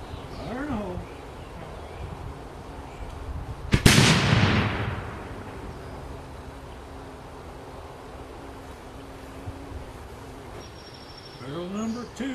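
A replica Bailes 11 bore barrel fires in a proof test, one sharp loud blast partway through that decays into a ringing echo, with faint outdoor insect chirps before and after.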